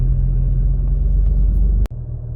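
A manual car accelerating in third gear, a steady loud engine rumble from close by that drops off abruptly near the end.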